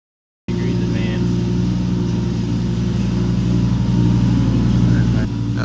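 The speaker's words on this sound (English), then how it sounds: "it sounds like Kyle's got the Lamborghini going right now" A turbocharged Lamborghini engine runs on a dyno in a workshop, a loud, steady, droning hum that holds throughout, with voices talking over it.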